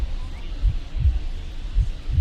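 A heartbeat sound effect from the baseball video game MLB The Show 24 pulses as four deep, muffled thumps in a steady, slow rhythm, loud and close under a faint hum.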